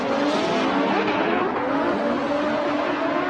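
A drift car at a professional drifting competition initiates a slide, its engine roaring steadily and loud with continuous tire and exhaust noise throughout.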